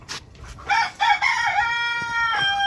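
Farm chickens on a rooftop at afternoon feeding time, with a rooster crowing in a long rising call after a few short clucks, close and fairly loud with no talk.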